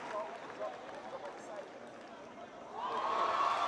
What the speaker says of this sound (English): Hear the screams of this crowd.